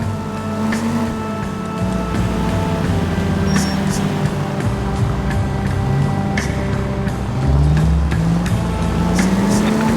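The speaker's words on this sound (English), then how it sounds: "Now would be a bad time to forget how to drive, Cole." A car being driven in the L.A. Noire video game, with a loud continuous engine drone that rises and falls in pitch as it accelerates, plus road rumble and occasional clicks.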